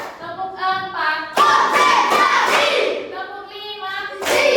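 A school class claps hands in a counted rhythm, sharp clusters of claps alternating with a voice calling out the count between them, close and loud in a classroom.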